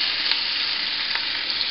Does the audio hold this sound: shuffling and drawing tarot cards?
no